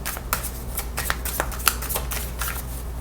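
Continuous riffling of a card deck being shuffled, with crisp snapping bursts and a few sharper flicks, steady and close throughout.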